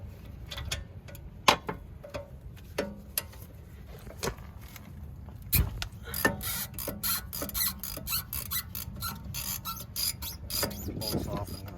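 Ratcheting socket wrench turning a T50 caliper bolt on the rear brake of a 2014 BMW, a close run of rapid metallic clicks and ticks that thickens into a steady ratchet chatter toward the end.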